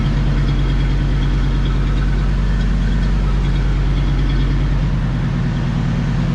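An old truck engine idles after long storage, a loud steady low rumble with a regular knocking pulse running through the whole stretch and no talking.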